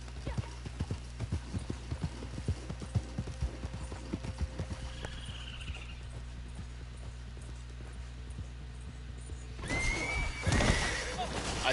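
Horse hooves clip-clopping at a run in the Red Dead Online game on PlayStation 4, a steady rapid patter with a whinny near the end, heard under background game ambience.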